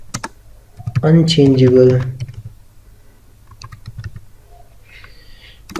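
Keystrokes on a computer keyboard click lightly in scattered taps around a short spoken phrase, close and fairly soft.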